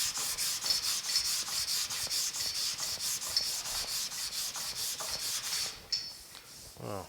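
Body filler on a 1950 Chevy truck splash guard is hand-sanded in quick, rhythmic back-and-forth scratchy strokes, close and steady for several seconds before the rubbing slows and stops near the end.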